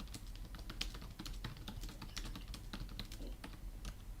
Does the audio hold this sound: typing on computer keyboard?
yes